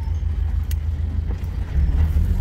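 A Toyota Hiace bus driving along the road, its engine and tyre rumble a steady, loud low drone that swells slightly toward the end, heard from inside the vehicle.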